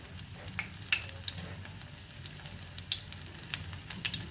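Small rajma patties fry in hot oil with a moderate, even sizzle, marked by irregular pops and spatters and a few soft knocks, close by and with no one talking.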